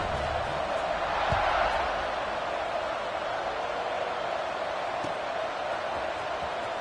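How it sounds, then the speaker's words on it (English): A packed college football stadium in NCAA 26 rumbles with a steady, distant crowd roar after a score, a broad sustained murmur with a brief swell early on. "this crowd is buzzing after that last score"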